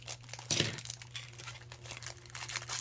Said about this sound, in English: I'm just going to cut the package open.